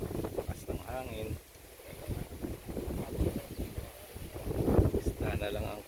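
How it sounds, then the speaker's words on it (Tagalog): Steady wind rushing and buffeting over the microphone outdoors at a beach, continuous and fairly loud, with people talking underneath. "Hangin."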